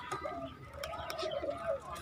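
Pigeons coo softly in a soft, rolling rhythm, a few overlapping calls close by against a quiet background.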